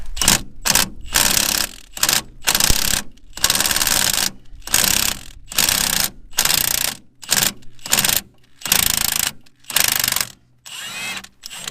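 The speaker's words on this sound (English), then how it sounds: "I'm gonna see if I can break it loose with the impact gun" An impact gun breaking loose a 14mm six-point bolt on a Mazda 6 during front strut replacement: loud repeated bursts of rapid hammering, each lasting about a second, separated by short pauses, close and dominant.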